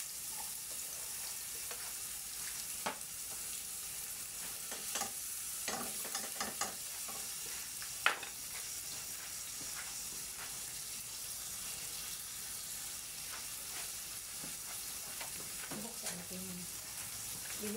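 Garlic fries in a pan for Mexican rice with marinated chicken, a soft continuous sizzle broken by scraping stirs and occasional clinks, with faint running water in the background.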